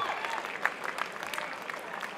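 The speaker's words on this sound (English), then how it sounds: "Applause, please, for both these men after three hard-fought rounds." A crowd applauds both fighters after three rounds of a boxing match, with steady, moderately loud clapping that carries on throughout, a few claps standing out, and a faint hint of voices underneath.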